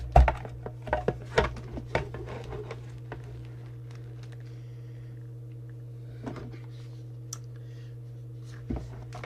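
Lids come off a PE Ranger transportable CB radio: a cluster of sharp plastic and metal clicks and taps early on, then a few isolated clicks later over a constant low electrical hum.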